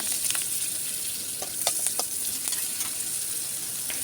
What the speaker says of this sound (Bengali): কাঁচা লঙ্কাটা একটু ভাজা হয়ে গেলে